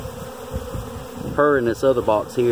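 Honey bees swarm around hive boxes while being brushed from one box to another, a steady buzzing hum underneath as a person talks nearby.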